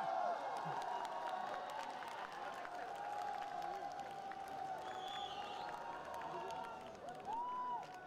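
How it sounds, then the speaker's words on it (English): Crowd at a live rock band performance at the Hornbill festival finals in 2018, giving steady, loud applause and cheering with voices mixed in, sustained throughout. "Give them a round of applause."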